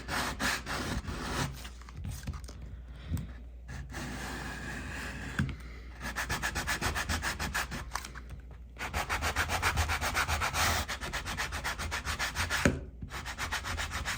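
Salmon leather has its edges roughed up for gluing to a wallet, producing loud, steady back-and-forth rubbing and sanding strokes in a close, rhythmic series broken by a few brief pauses, with no talking.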